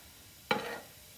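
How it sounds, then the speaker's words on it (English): Home fries, potatoes frying in oil in a pan, give a sudden brief burst of sizzling that flares up and fades away within a few tenths of a second, alone against a quiet background. "And we're frying potatoes."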